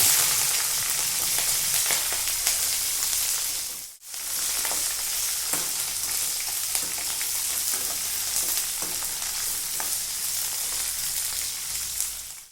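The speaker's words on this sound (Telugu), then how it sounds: "పచ్చిమిర్చి ఇలా బాగా వేగుతూ ఉన్నప్పుడు" Sliced green chillies and broken dried red chillies crackling in hot oil with peanuts, a loud steady sizzle with stirring clicks and a brief drop in sound near the start.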